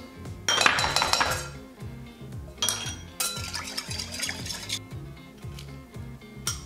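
A spoon clinks and scrapes against a bowl while teriyaki sauce of honey, brown sugar, rice vinegar and ginger is stirred, in bursts of quick metallic chinks and swishes under a low background hum.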